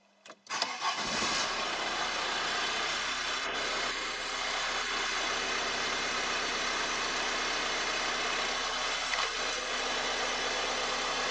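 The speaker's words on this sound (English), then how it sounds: "Come on, let's start the car." An Audi A6 engine cranks and catches near the start, then settles into a steady, even idle that runs on without a break to the end.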